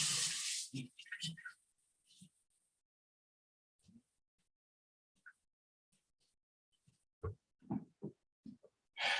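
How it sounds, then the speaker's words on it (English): Water from a kitchen tap runs in short bursts as hands are rinsed at a sink, with intermittent splashing between quiet pauses, close and moderately loud. "Let's rinse off our hands."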